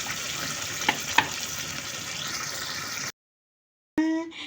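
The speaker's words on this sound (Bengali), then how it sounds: "এখন গ্রেভটা একটু তেলের সাথে দিয়ে দিলাম" Gravy with green chilies fries in oil, giving a steady close sizzle with a couple of sharp pops, then a short silence before a brief burst of other sound.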